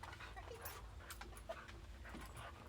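A dog growls, pants and whimpers while tugging on a toy during play, low and steady vocalizing with faint rustling, fairly quiet throughout.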